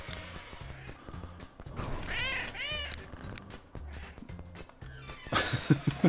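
Cartoonish cat meows from the video game CatNab, several rising and falling mewing calls clustered mid-clip over steady game music with a rhythmic bass thump.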